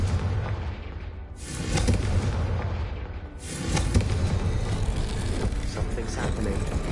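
Blasting fire spells explode in the Hogwarts Legacy video game, two loud booming bursts with rumbling tails over continuous low in-game noise.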